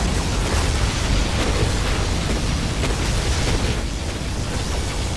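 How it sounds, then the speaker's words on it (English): A particle cannon strike in the video game Command & Conquer Generals Zero Hour produces a loud, continuous roaring blast that fills the whole stretch with dense, rumbling energy and no speech. "Particle cannon activated."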